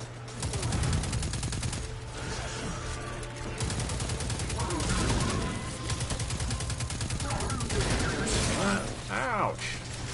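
Rapid gunfire during a Destiny 2 player-versus-player match, dense mechanical bursts and clattering shots running throughout, with a voice speaking at times.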